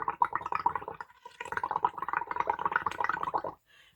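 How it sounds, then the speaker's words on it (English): Bubbles are blown through a hollow flagpole into coffee, a near, continuous bubbling gurgle in rapid bursts with a brief pause midway, stopping abruptly at the end. "and it creates bubbles"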